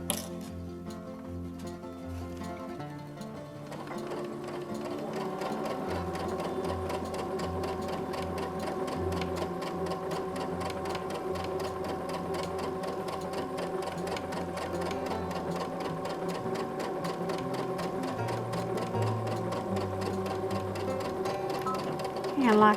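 A sewing machine stitches a fabric mask in a long, steady, fast mechanical whir with a rapid rhythmic clatter, close and loud, pausing briefly near the start before running on continuously.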